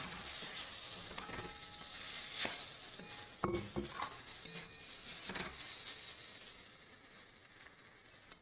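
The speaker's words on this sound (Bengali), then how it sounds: "একটু লঙ্কা গুঁড়ো ঝাল ঝাল হবে এবার দিয়ে একটু নাড়াচাড়া করবো" Pumpkin curry being stirred in a pan after chili powder goes in, with soft scraping and rattling of a spoon against the pan over a low background hiss, a few sharper knocks in the middle.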